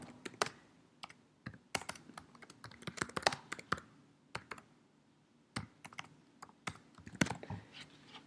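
Computer keyboard typing, quick irregular runs of close key clicks with short pauses, steady throughout in a quiet room.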